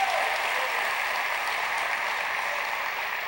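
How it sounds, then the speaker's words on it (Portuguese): A church congregation claps together in a thick, continuous round of applause that begins at full strength and stays steady throughout, with no talking over it. "pode aplaudir a Jesus."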